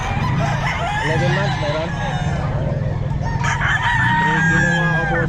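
A rooster crows repeatedly amid a busy gamefowl pet market in Bocaue, with other fowl clucking nearby and people talking throughout the loud, crowded scene.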